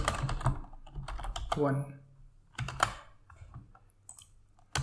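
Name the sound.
typing a folder name on a computer keyboard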